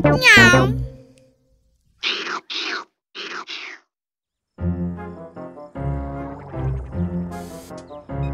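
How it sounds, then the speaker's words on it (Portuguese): An animated cartoon cat meows several times in short separate calls, loud and close, after a child-like voice speaks; bright cartoon music and effects follow. "É um gato!"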